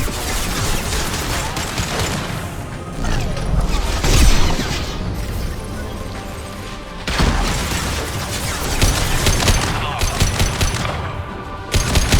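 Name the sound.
gunfire and suppressive fire in video game Mass Effect 2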